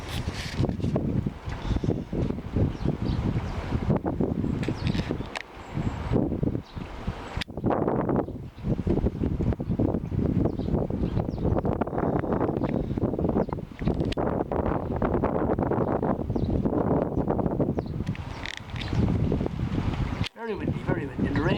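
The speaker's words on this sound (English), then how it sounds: "Very windy, and the rain pouring down here on this Friday afternoon." Strong gusting wind and pouring rain outdoors in a garden on a March afternoon, a loud, continuous rushing roar with buffeting against the microphone and brief dips, while someone talks over it now and then.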